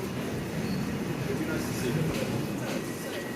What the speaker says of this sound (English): Or maybe we'll just wait for this train to leave first.